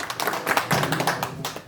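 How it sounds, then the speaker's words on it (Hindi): At a community meeting, a burst of hand clapping from a gathered crowd rises quickly, with dense overlapping claps sustained throughout the short moment. "भाई के लिए एक बार जोरदार ताली बजाइए।"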